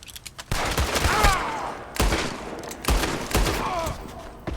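Rapid bursts of gunfire from a Red Dead video game, several loud cracks arriving in clusters with brief gaps between volleys.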